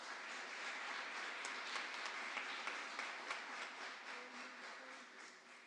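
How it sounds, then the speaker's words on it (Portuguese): A church prayer group audience applauding together after the Gospel reading, a steady, fairly distant wash of many hands clapping that holds evenly for several seconds with no talking. "Vamos aplaudir a palavra da salvação."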